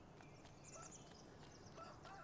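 Fowl sounds from hens on a farm in a farming video game: a few soft clucks and gobble-like calls repeat over a steady low ambient bed, with no talking.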